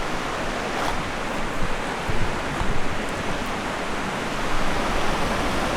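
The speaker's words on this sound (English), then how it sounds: "So there's the beautiful river" A river flowing past a washed-out road, a steady, loud, broadband rush of water that stays close and continuous throughout, with no voices.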